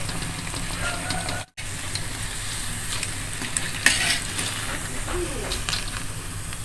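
Otak-otak fish cakes with egg fry in hot oil, a steady close sizzle running throughout with occasional clinks of a utensil stirring the pan and a brief gap in the sound.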